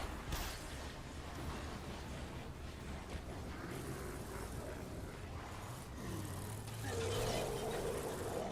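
A vehicle in the Evil Dead game rumbles along with a low, steady engine drone under rough noise, the engine note climbing and growing louder near the end.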